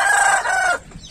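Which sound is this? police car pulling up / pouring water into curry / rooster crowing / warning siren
rooster crowing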